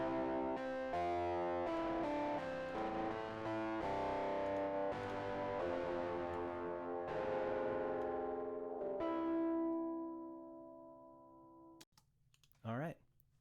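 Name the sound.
audio with a distortion plugin before the reverb, tremolo off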